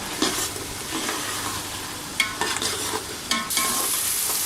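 Tomatoes and chickpeas sautéing in a pan for chana pulao, a continuous sizzle broken by several sharp stirring scrapes and clatters of a spoon.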